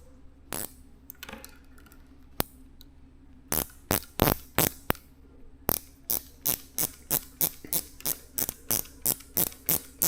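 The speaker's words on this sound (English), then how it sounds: "Now I'm actually just going to drive that bolt in just a little bit" A bolt being driven in while fitting Speedra three-piece levers to a Suzuki GSX-S750 motorcycle, heard as sharp clicking ratchet strokes, scattered at first then a quick regular series, close and crisp against a quiet background.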